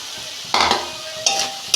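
Chopped vegetables tipped into a hot pan of browned onion and spices for a homestyle kudri (ivy gourd) curry, bursting into short sizzling, stirring bursts, three loud near scrapes and hisses over a quiet background.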